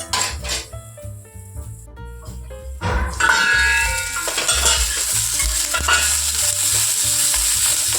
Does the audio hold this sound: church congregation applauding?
no